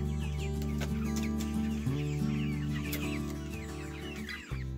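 Chickens softly clucking and pecking at sprouted corn, with small scattered peck taps and murmured clucks over a steady low hum.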